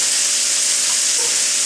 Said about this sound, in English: Give them a good stirring up.